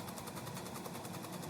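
A Nelson Rain Train lawn sprinkler, freshly repainted and fitted with a homemade 3D-printed drive gear, runs with a steady, even mechanical whir and faint rhythmic pulsing, close and continuous with no talking.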